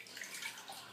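A bundle of Brazilian body wave hair extensions is dipped in and out of water in a sink during co-washing, giving a soft, quiet sloshing and trickling with light splashes, close and without talk.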